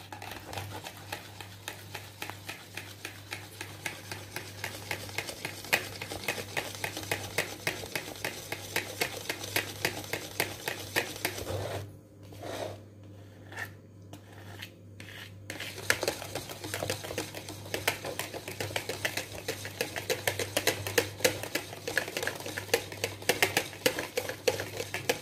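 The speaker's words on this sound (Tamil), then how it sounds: "இதையும் நல்லா கலந்து விட்டுக்கலாம்." Rava pudding mixture being mixed in a bowl, heard as steady, rapid, close rhythmic tapping and clinking of a utensil against the bowl that pauses briefly near the middle, with no talking.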